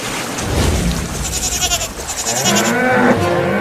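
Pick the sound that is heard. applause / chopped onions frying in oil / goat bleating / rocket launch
goat bleating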